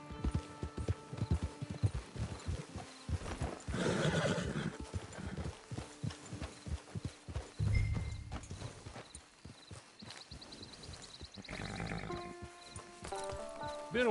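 Horse in the Red Dead Online game whinnies and its hooves clop at a steady pace, with a loud neigh standing out midway and the hoofbeats close and clear throughout, with no one talking.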